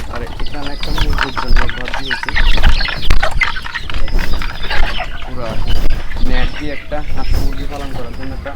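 Native chickens cluck and squawk nearby in a busy, continuous jumble, with a person talking over the flock throughout.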